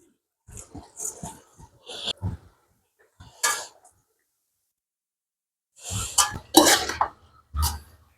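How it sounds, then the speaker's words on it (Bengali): Dry rice poured into a pot of cooked meat, with scattered rattling pours and clinks of kitchenware in short bursts, near and fairly quiet, with pauses between. "এখন আমরা চাল দিয়ে দেব।"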